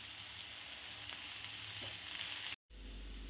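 Onions sauté in a pan with ginger-garlic paste for Kerala-style prawn roast, a steady close sizzle throughout with a brief dropout near the end.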